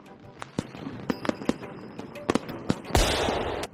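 Cartoon Diwali firecrackers go off as a series of sharp cracks and pops, ending in a louder sustained burst of fizzing blast noise.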